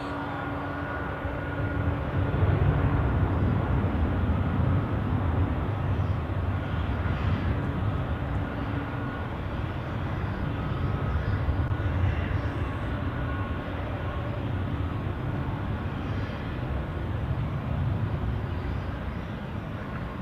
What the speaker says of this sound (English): And now takeoff for Nile Air.